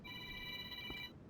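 A phone rings with a steady electronic ringtone in a garage where a BMW drag car with an LS engine swap sits, one continuous ring lasting about a second over low background rumble, then cutting off.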